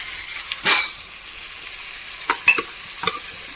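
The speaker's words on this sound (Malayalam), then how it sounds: "ഇനി നമുക്ക് നമ്മുടെ വേവിച്ച പയറും വാഴക്കല്ലും അതിലേക്ക് ഇട്ട് കൊടുക്കാം." Cooked beans and chopped banana stem tipped into a hot frying pan and stirred, giving a loud scraping sizzle at first, then a few short clinks and stirs against a steady low frying hiss.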